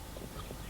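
Horse hooves clip-clop on the ground during a jumping riding lesson, a short burst of muffled, rhythmic footfalls against a dull, noisy background.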